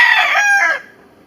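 Black Australorp rooster crowing once, a loud, close, harsh cock-a-doodle-doo of about a second that breaks off and leaves quiet farmyard air, with no voices.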